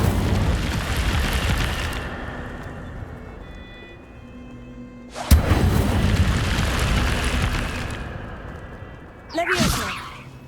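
In the Hogwarts Legacy video game, Incendio fire spells go off as three loud, roaring bursts, each with a whooshing tail, close up and filling the scene.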